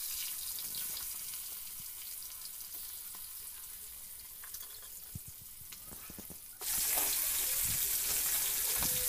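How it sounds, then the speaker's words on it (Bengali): Fish frying one piece at a time in hot oil in a wok: a steady soft hiss with small crackles, jumping to a louder, brighter, continuous sizzle partway through, with no voices. "চুলায় আমি কড়াই বসিয়ে তেল দিয়ে দিলাম, আর তেল গরম হয়ে গেলে আমি একে একে মাছগুলো ভেজে নিব।"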